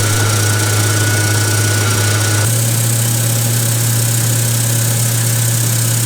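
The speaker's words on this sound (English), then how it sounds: "I'll drive the tractor around" A tractor engine's steady, low drone runs throughout, idling with a constant hum and slight vibration, with no voices.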